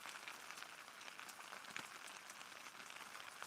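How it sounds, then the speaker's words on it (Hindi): Light rain falls in a faint, steady patter with soft scattered drops and no other clear sounds. "बहुत मतलब पानी गिरत है आज सिटिर सिटिर"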